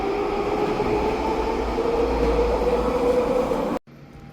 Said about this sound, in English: SkyTrain's just leaving out of there.